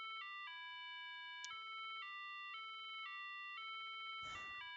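A ringtone melody in Robotics;Notes Elite plays as a string of clean electronic tones stepping between pitches in a simple tune, alone and clear, ending in a short noisy burst.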